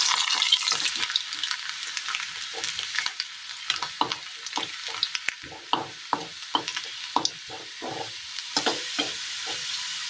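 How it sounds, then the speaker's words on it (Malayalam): Garlic frying in oil for a drumstick pickle, a bright continuous sizzle with frequent sharp scraping and stirring taps of a spoon against the pan, close and loud. "ഈ എണ്ണയിലേക്ക് വെളുത്തുള്ളി ഇട്ട് കൊടുക്കാം."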